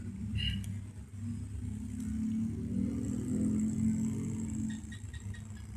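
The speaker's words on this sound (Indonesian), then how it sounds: "Motor pun mulai berputar dan dalam kondisi hubungan start." An electric motor starts up in star connection under star-delta control, giving a low, steady hum that swells slightly as it spins up, with a few faint clicks and no talking.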